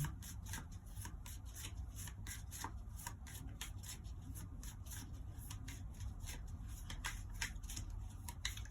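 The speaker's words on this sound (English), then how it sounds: "So let's give these cards a shuffle." Steady, close papery rubbing and riffling of tarot cards being shuffled continuously, with soft rhythmic flicks and no talking.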